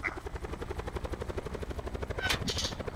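Helicopter in a survival video game, with a loud continuous rotor chop pulsing in a fast even rhythm and a brief burst of sharper noise near the end.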